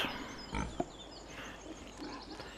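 Pigs grunt and oink inside a pig enclosure in Farming Simulator 17 on PS4, with a few short snorts over a steady low farm ambience at moderate level, no talk.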